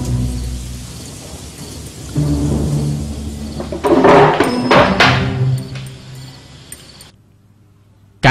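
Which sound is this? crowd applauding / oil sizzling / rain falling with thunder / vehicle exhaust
rain falling with thunder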